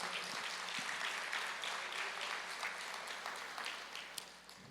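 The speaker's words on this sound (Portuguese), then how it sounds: "vamos aplaudir ao Senhor" A church congregation applauds during a Portuguese-language sermon, steady broadband clapping sustained throughout at a moderate distance, slowly tapering near the end.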